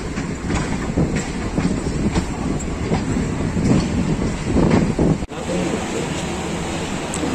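A Pakistan Railways railcar rolls along the tracks near Lala Musa junction, a steady loud rumble with faint rhythmic clicking of wheels on rail joints and a brief dip in the noise partway through.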